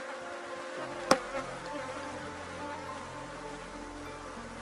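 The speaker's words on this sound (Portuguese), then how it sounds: "Olha só, né, gente? A abelha rainha aí, ó" Bees swarm around an open beehive during a colony inspection, a dense steady buzzing that fills the air close by, broken once by a sharp click.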